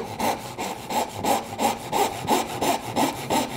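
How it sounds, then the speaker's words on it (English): A hand saw cuts 45-degree miters in a wooden pin board clamped in a vise, with about ten even, rhythmic back-and-forth strokes, close and moderately loud. "this is where we're going to cut our 45 degree miters"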